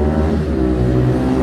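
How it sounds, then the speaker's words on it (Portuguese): A 2009 Honda Fan 125 motorcycle with a 4 mm oversize piston and a slipping clutch revs loudly and close, a thick, steady engine drone with harmonic buzz across the whole short stretch. "A moto tá patinando a embreagem pelo jeito"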